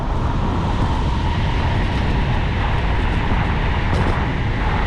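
An Amtrak Acela high-speed train rushes past on tracks beside a bike path in Jamaica Plain, Boston, making a loud, steady rumble and roar that fills the whole span with no break.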